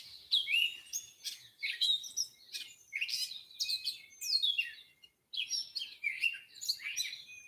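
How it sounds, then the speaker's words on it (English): Wild birds chirp and tweet around a backyard feeder in a steady, overlapping chorus of bright, high calls, several birds at close to moderate distance with no voices. "I feed birds."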